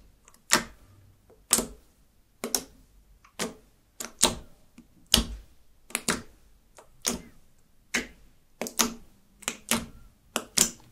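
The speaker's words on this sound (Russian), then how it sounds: "Слайм хорошо кликает." Rose-gold slime being squeezed by hand, giving sharp, crisp clicks and pops at a steady, roughly half-second rhythm, close and distinct against a quiet background.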